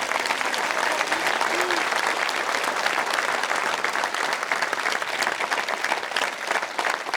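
A crowd at a political speech event applauds loudly and steadily. The clapping stays dense and unbroken for several seconds, with a faint undertone of voices.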